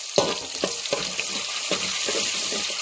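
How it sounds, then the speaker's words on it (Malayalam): Ginger and garlic frying in a pan for a Kerala fish curry, a steady close sizzle with a few scraping stirs of a spoon against the pan. "ഇഞ്ചി വെളുത്തുള്ളി കൊടുക്കാം നന്നായിട്ടൊന്ന് വെച്ചെടുക്കാം"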